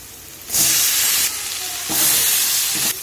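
Onions sizzling and frying in a hot pan, the hiss swelling in two loud bursts with quieter stretches between, close up and no talking.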